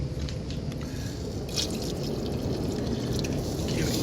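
Liquid poured into boiled peanuts inside a Masterbuilt smoker makes a steady watery trickle with faint dripping, close and continuous, with no talk.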